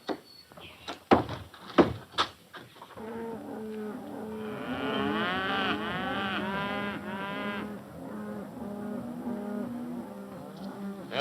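Cattle on a ranch lowing in a chorus of overlapping moos that carries for several seconds, preceded by a few sharp knocks and door-like thuds, in an old recording.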